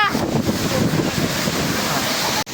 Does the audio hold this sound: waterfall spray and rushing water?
yes